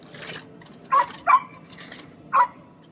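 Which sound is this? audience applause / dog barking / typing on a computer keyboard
dog barking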